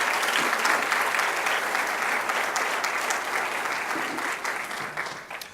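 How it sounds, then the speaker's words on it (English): A college audience at a fall state-of-the-college address gives sustained applause, a dense, steady clapping that fades slightly toward the end. "so maybe we can clap for them"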